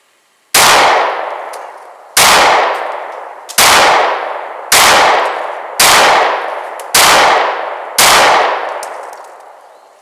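Seven sharp, loud Walther PPS pistol shots crack at a steady pace of roughly one every second and a half, each trailing off into a ringing outdoor decay, with no voices.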